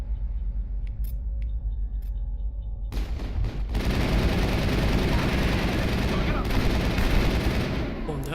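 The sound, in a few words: gunfire in a firefight, from video game Mass Effect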